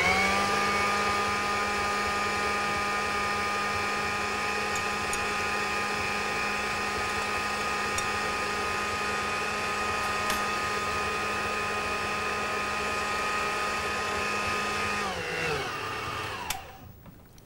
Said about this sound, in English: I'm going to turn the machine on to maximum speed and continue mixing the egg whites